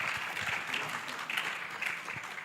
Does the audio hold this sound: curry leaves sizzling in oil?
no